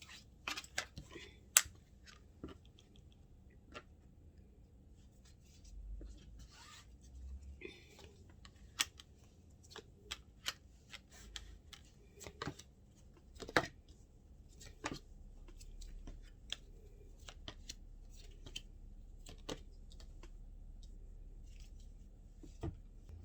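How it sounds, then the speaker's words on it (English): Tarot cards are shuffled quietly at a table, giving soft repeated riffles and light taps scattered irregularly against a hushed room, with no voices. "I'm going to shuffle for the clarifiers while I speak to the cards on the table"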